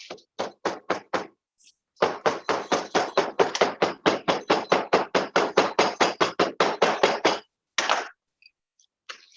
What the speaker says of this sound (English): get your hammer and compress that.